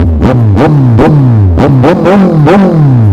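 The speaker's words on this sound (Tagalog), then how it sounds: "Ayan talaga yung motor, si Sir Chris." A Kawasaki Z1000 motorcycle engine revs hard over and over, loud and close, each sharp throttle blip rising and then falling back in quick succession.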